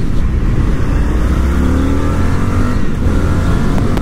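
A 2024 Indian FTR 1200 motorcycle engine accelerates hard, with a loud, steady, gritty drone that climbs in pitch and carries under heavy wind noise throughout.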